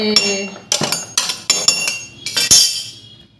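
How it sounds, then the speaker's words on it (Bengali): Brass mortar and pestle pounding spices, a series of about six sharp metallic clinks and thuds in an uneven rhythm, close and fairly loud, with no talking. "হামন দিস্তার মধ্যে একটুখানি গুঁড়ো করে দিয়ে দেবো"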